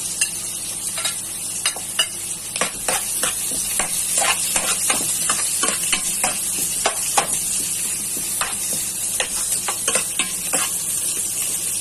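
Garlic sizzles steadily in hot oil in a pan for Kapampangan-style pork caldereta, with a constant bright frying hiss broken by frequent sharp crackles and stirring scrapes, close and fairly loud throughout, no voices.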